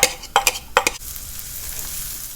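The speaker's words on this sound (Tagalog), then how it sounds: "Gisa na po tayo ng sibuyas." Onion and garlic hit hot oil in a pan with a few sharp scraping stirs at first, then settle into a steady, bright sizzle that carries on alone.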